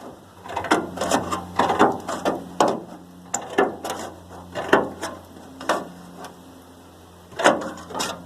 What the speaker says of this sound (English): all we're going to do is cut along all of these ridges, removing these crimps and leaving us with just the flat piece of tin.